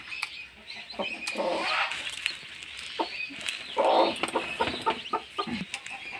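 A broody hen with her newly hatched chicks, still coming out of their eggs beneath her, gives soft clucks and chirps at close range, with a brief flutter and a person talking nearby.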